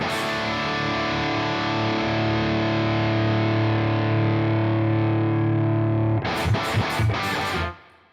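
A distorted electric guitar plays through an AmpliTube amp simulator and cabinet with an impulse response. One long chord sustains heavily, then a few sharp, chugging palm-muted stabs follow before it stops abruptly.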